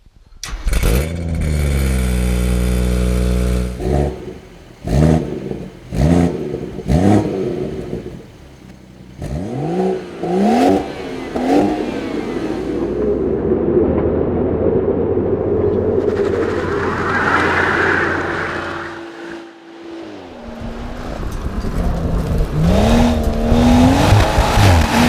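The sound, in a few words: 2016 BMW M140i car accelerating while driving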